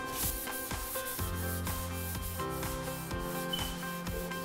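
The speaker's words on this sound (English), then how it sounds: "you can just sand it back to a seamless finish" Hand sanding of a basin surface with sandpaper, rhythmic back-and-forth rubbing strokes in a steady repeating pattern, close and moderately loud over faint background music.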